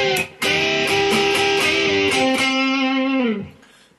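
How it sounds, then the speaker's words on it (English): Electric guitar plays harmony string bends, with two notes bending together and sustaining through a few phrases over a lightly overdriven tone, then fading out near the end. "I'll demonstrate the harmony bending technique that's going to feature in this lesson"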